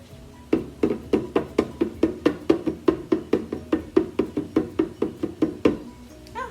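Steady rhythmic tapping on a taut homemade drum with a rubber band securing its surface, about three hits per second, close and clear with no talking.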